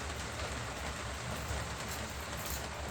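Steady rain falls outdoors in South Westland, New Zealand, a dense, even hiss of drops filling the clip with no talk over it.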